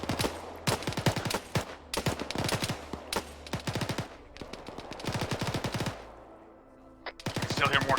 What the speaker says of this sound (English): Still hear more shooting from over there.